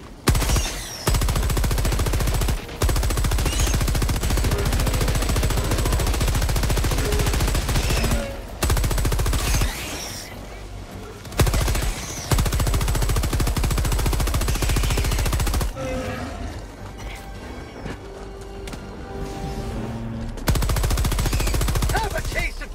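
Sustained automatic fire from a sample gun in Helldivers 2, loud and continuous in long bursts with brief gaps, no talking over it.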